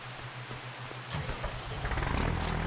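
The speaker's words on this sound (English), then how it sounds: "It's raining anyway" Rain falls on a farm, heard with a truck nearby. A low engine hum fades out and a rising hiss of rain and patter on surfaces builds louder toward the end.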